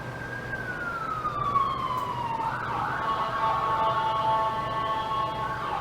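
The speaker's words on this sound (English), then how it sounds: "That's like the third siren" A siren on an emergency vehicle passing through downtown streets, its wail sliding steadily downward in pitch as it goes by, then settling into a sustained tone over a constant rumble of city traffic.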